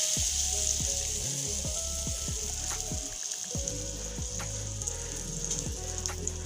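Vegetable and egg paratha frying on a hot tawa over a stove, a steady close sizzle with bubbling oil and scattered pops and crackles running throughout, with no talking.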